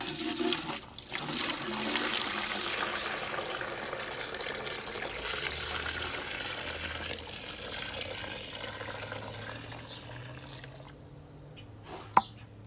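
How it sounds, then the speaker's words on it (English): Water runs and splashes while a dye pot used for natural plant dyeing is rinsed of plant debris, a steady rushing flow that gradually fades, ending with a single sharp clunk. "I've taken my dye pot and I've rinsed it out because there's always plant debris."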